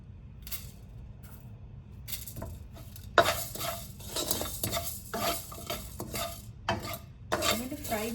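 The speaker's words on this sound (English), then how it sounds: "I'm going to fry these until they start to change color" Coriander and cumin seeds fry in a kadai while a spoon stirs them, giving a steady sizzle with sharp metallic scrapes and clinks that come louder and more often in the second half.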